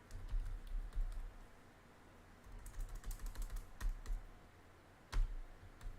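Quiet clicks of typing on a computer keyboard come in short uneven bursts with pauses between, close by, with no talking.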